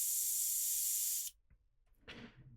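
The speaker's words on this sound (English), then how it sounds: "I like to just spray some paint into a paper towel." Spray paint from an aerosol can hissing into a paper towel, one steady loud burst about a second long that cuts off abruptly, followed by a soft rustle.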